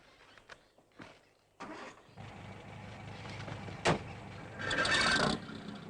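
A car engine cranks and catches, then idles with a steady rumble that swells into a louder rev near the end, preceded by a few faint clicks and knocks.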